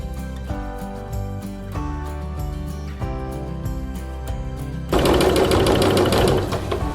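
A sewing machine stitches fabric at a 1.6 stitch length with a quarter-inch seam: a steady, close mechanical whir of rapid needle strokes that runs the whole time and gets louder and busier near the end.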